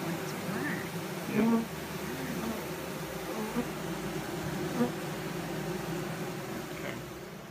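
A low, steady buzz of many honeybees drones on throughout as a package of bees is placed into a Langstroth hive, with faint voices and brief handling sounds mixed in.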